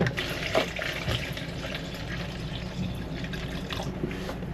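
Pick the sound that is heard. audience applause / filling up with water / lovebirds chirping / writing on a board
filling up with water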